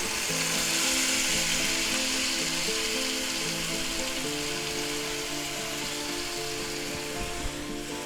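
Minced garlic, onions and peppers fry in a pan with a loud, continuous close-up sizzle that holds steady throughout, while a faint tonal hum runs underneath and no one speaks.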